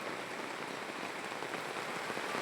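Rain falls steadily on a rural property in Liliw, Laguna, a continuous soft hiss of drops pattering on surfaces with no talking.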